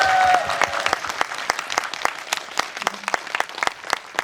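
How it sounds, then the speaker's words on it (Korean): An audience at a film screening Q&A claps together in steady, fairly loud applause that continues throughout, with a brief voice at the very start. "박수 부탁드릴게요"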